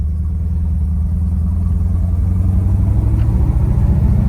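A 1976 Chevy C10 pickup truck engine rumbling steadily while driving, a loud, deep, continuous low drone heard from inside the cab with no voices.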